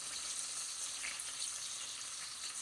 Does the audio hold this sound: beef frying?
yes